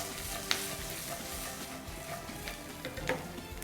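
Peanuts, green chilli, ginger and curry leaves fry quietly in a pan over low heat, a soft continuous sizzle with a couple of sharp pops and light stirring.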